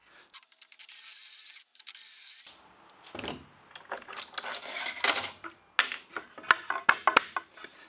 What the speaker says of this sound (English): This jig will drill at an angle a hole for a screw to go down.